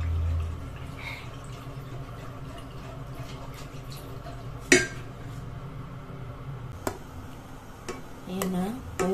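Metal utensils clink and scrape against a pot while cooking, scattered sharp knocks over a low simmering background, with occasional speech nearby.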